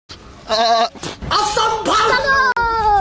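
A person mimics a goat's bleat as part of a prank: a loud, wavering, nasal call stretched across several bursts, close to the mic, alongside some voiced sounds.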